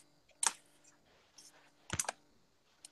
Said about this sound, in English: I was just typing it in real quick.